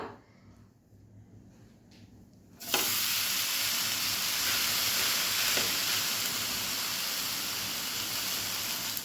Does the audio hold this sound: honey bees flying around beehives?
no